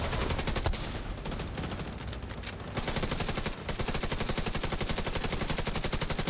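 Rapid automatic gunfire in The Division 2, a dense rhythmic stream of shots that runs almost continuously, pausing briefly once, with steady loud repetition close up and no talking.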